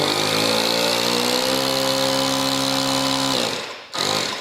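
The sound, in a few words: WorkProX portable tire inflator running in car mode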